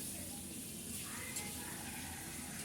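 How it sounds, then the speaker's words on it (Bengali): Potatoes frying in oil in a pan give a steady, continuous sizzle, moderately close and even in level, with no talk over it. "তারপর ওগুলোকে নেড়েচেড়ে কিছুক্ষণের জন্য ভেজে নেব।"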